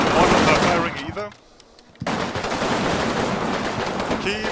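Gunfire in the Combat Mission video game: dense, loud sustained bursts of rifle and machine-gun fire that drop out briefly, then resume at full intensity, with voices faintly underneath.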